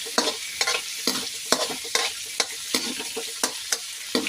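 Fatty pork sizzling in cooking oil in a pan while being stirred, sharp scraping stir strokes repeating roughly every half second over a steady frying crackle, close and alone with no talk.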